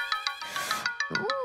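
A phone ringtone in a comedy film scene, a short bright melodic chime of repeated electronic tones, close and clear, with a brief voice-like sweep near the end.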